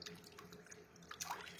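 Warm water is poured back out of glass jars of cherry plum compote, giving a brief, soft splashing trickle close by with a quick gush near the end and no voices.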